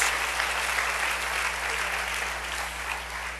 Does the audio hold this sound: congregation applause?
yes